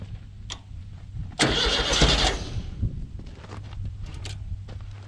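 A Volkswagen engine in a rail buggy runs rough and breaks up, surging loudly for about a second, then sputtering unevenly at a lower, steady rumble outdoors.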